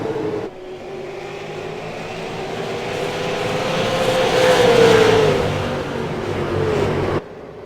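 Race car engines in a CARS eSport Tour video game race at Five Flags Speedway, a loud continuous roar with a rising whine that swells toward the middle as cars pass, then cuts off abruptly near the end.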